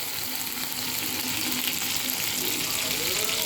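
Oil heats and sizzles in a hot kadai after fried prawns are lifted out, a dense, even crackling hiss heard close up with no talk.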